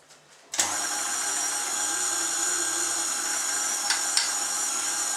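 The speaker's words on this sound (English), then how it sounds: "That is my gorgeous KitchenAid." A KitchenAid stand mixer switches on after a short pause and runs with a steady, close whirring hum, with a couple of brief knocks partway through and no talking.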